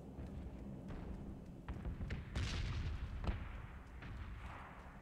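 Explosions in the battle royale shooter PUBG, several booming blasts and crackling gunfire-like bursts heard at a distance and fairly faint, rumbling over a steady low background.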